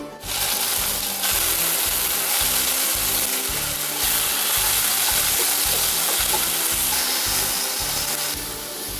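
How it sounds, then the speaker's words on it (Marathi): Tomatoes roasting in a little oil in a pan while making a spicy village-chicken curry masala, a steady, loud sizzling and crackling that runs throughout with occasional scraping stirs and no talking. "थोडंसं तेल घालून आपण याच्यामध्ये टोमॅटो भाजून घ्यायचेत"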